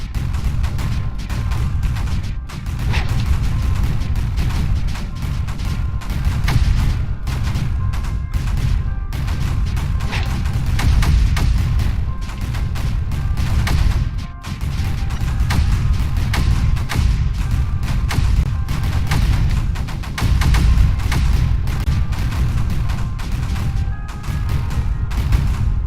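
Mortars in the video game Creeper World 4 fire in a dense, continuous barrage of booming thuds and crashes that hold a steady loudness throughout.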